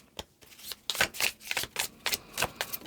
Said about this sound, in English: These are so tricky to shuffle